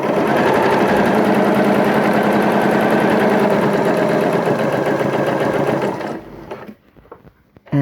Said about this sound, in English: I am sewing on a line 5/8 of an inch from that cut edge.